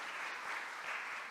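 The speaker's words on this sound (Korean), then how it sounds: "박수 한번 보내주세요" A church congregation clapping during a Sunday service, a short burst of dense, even applause heard at a distance and fairly quiet.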